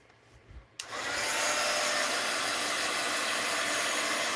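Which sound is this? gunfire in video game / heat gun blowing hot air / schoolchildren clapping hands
heat gun blowing hot air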